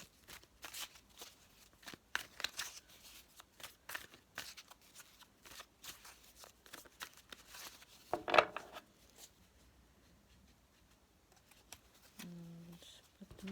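An oracle card deck is shuffled in quick, soft riffling bursts and flicks over several seconds, quiet and close, with a few faint knocks and a short hum near the end.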